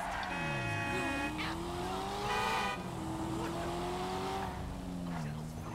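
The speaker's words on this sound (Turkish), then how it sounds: "Arabanın motor sesini duyabiliyorum." A Chevrolet Corvette engine in GTA 5 revs up and down with rising and falling whines, sustained and fairly loud, with a synthetic game-like tone throughout.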